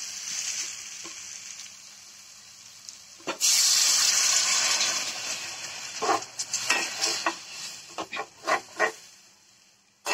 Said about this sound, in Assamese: এয়া পানীখিনি দিছোঁ দি অকণমান সময় উতলাব দিছোঁ